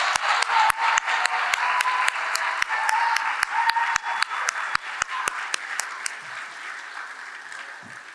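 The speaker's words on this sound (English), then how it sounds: "if you all could just give them a round of applause" Sustained applause from a seated audience honoring speech students at a senior speeches event, dense clapping with sharp individual claps standing out, loud at first and gradually thinning toward the end.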